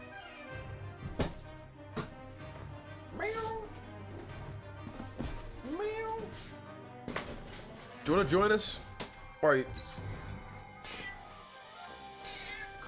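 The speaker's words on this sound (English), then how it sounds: "I heard my cat. I hear my cat." A house cat meows several times in a room, the cries short and rising, sitting under and between spoken remarks over a steady background of music and game sound.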